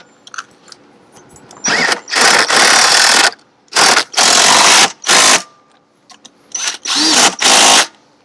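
An impact wrench hammers on a Yamaha 6H1 trim and tilt unit in loud, close bursts, roughly six rattling runs of about a second each, separated by short silences.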